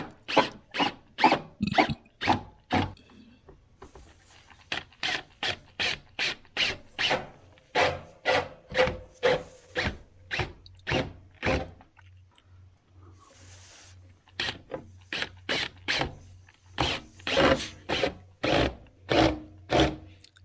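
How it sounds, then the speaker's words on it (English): Screws are driven in with a power screwdriver while a PTAC heating and air conditioning unit is installed: bursts of rapid, close, rhythmic ratcheting clicks, with a brief quieter pause midway and no talking. "So we're replacing the screws, 2 on the right, 2 on the left."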